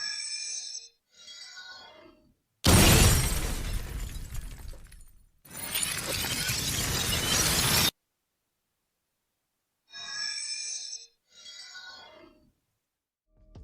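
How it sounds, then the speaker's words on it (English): Unused ability sound effects for Shatter, a scrapped agent from the video game VALORANT: two long, loud bursts of crashing, shattering glass-like noise, framed by shorter sparkly, chiming tonal effects before and after, with silent gaps between. "they were so close to completion for Shatter, they actually had audio files"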